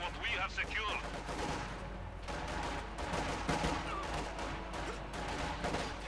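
Dense battle gunfire from Company of Heroes 2, a real-time strategy game, with rapid rifle and machine-gun bursts crackling continuously over a low rumble as a caster speaks.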